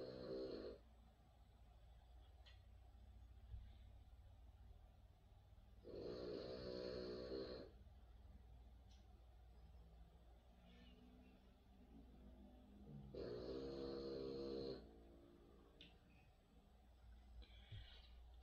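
A dog snores steadily indoors, with two long, loud rasping inhalations spaced several seconds apart and softer breathing between them over a low background hum.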